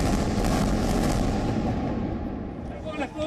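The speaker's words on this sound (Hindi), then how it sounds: "ये रॉकेट अटैक, ये बमबारी," Heavy, continuous rumbling blasts from rocket attacks and bombing in the Israel–Palestine conflict, with dense low booms and crackling bursts, loud and close; voices murmur faintly underneath.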